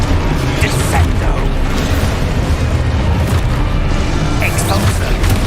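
Descendo spell cast in the Hogwarts Legacy video game, a dense rumbling boom with mechanical clatter and crunching impacts layered over continuous action noise, loud and close, with a voice speaking over it.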